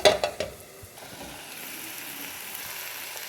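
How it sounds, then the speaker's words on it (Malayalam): Spinach stir-fry in coconut oil, stirred in a pan: a few brief scraping clatters at the start, then a steady soft sizzle of frying continues alone at moderate level. "അപ്പോൾ എല്ലാം കൂടി നല്ലോണം ഇളക്കി യോജിപ്പിക്കാം"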